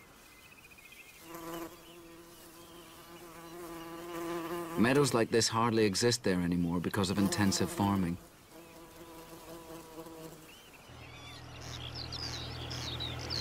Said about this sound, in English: the Macaire hums with rare bees like the moss carder and the great yellow bumblebee